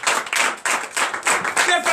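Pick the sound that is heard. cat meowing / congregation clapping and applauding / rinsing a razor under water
congregation clapping and applauding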